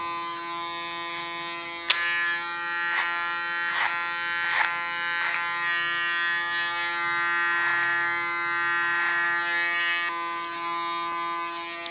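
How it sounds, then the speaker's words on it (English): An electric hair clipper trims the contour line of a bob haircut, a close steady tonal buzz running throughout with small shifts and light clicks as the blades move over the hair, no speech. "With my clipper I clean the contour line"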